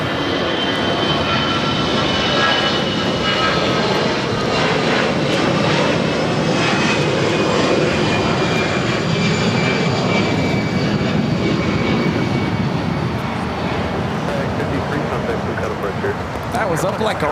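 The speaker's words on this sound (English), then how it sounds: "It's a corporate jet." A corporate jet takes off at LAX with a loud, sustained engine roar that holds steady and then gradually thins as it climbs away, while people talk over it.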